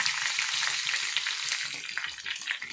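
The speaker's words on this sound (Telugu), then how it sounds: "చిన్న చిన్న పీస్గా మనం కట్ చేసి ఈ ఆయిల్లో వేసుకుంటామమ్మా" Small pieces of ajwain leaf frying in hair oil, a steady close crackling sizzle with dense high hiss and popping throughout, no voices.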